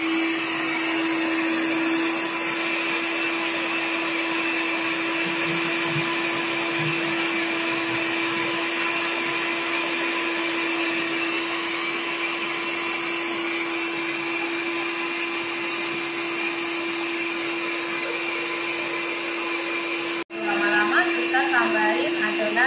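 A Vienta stand mixer runs steadily at close range, mixing cheese pastry dough while its bowl turns on its own, a constant motor hum that holds through the clip and ends with a brief clatter.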